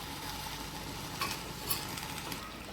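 Cashews with green chillies sizzle in a little oil in a pan: a steady, close frying hiss with a few faint clinks and stirring sounds, no voices.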